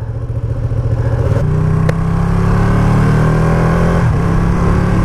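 A 2020 Ducati Panigale V2 motorcycle engine fires up and settles into a loud, steady, close idle with a brief rev partway through and a bassy throb throughout.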